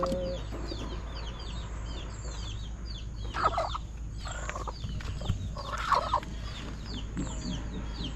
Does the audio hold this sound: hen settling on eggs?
yes